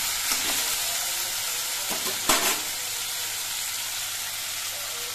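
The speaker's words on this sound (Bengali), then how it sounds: "এবার এই আলুগুলো নাড়াচাড়া করে কিন্তু একটুখানি সময় ভেজে নিতে হবে।" Potatoes being stirred and fried in a kadai over a medium gas flame, giving a steady close sizzle with a few scraping stir strokes, one sharper knock midway.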